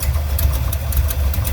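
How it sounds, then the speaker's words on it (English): A Buick 455 Stage 1 V8 in a Regal idles with a steady low rumble and a fast, regular ticking layered over it, close and continuous. "This ticking sound / noise began."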